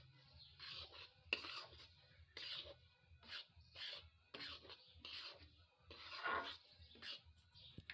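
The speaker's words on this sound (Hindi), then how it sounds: "इसको हम जल्दी जल्दी से हिलाएंगे ताकि नीचे जले भी नहीं।" Besan mixture for laddu being stirred quickly in a pan, with repeated scraping and rasping strokes of a spoon against the metal in a steady rhythm, close and fairly quiet.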